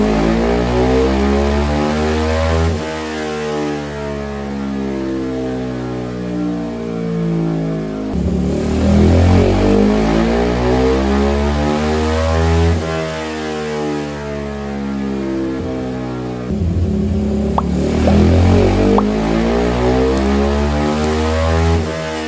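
A motorcycle engine fitted with a 232cc bore-up kit runs on a dyno, a loud, steady drone that rises and falls in pitch through repeated rev sweeps, close and alone.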